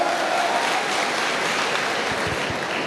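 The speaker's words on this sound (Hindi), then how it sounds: "इनके लिए जोरदार तालियां होनी चाहिए।" Seminar audience in Mathura applauding loudly, a steady dense wash of clapping filling the whole stretch without a break.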